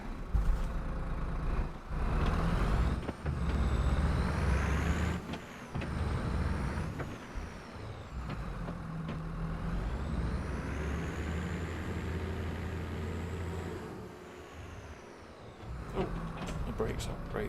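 Heavy vehicle air brakes hiss in Farming Simulator 22 during a roleplay farm session, sounding amid a steady rumbling engine drone that fills the whole stretch, with loud bursts early and a brief dip near the end; a voice is present.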